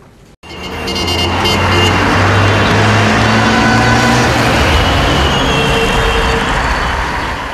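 Column of more than 50 cars decorated in tricolour paint on a city motor rally in Nizhny Novgorod, a loud, close, continuous roar of engines and traffic with faint horn toots, rising after a sudden start.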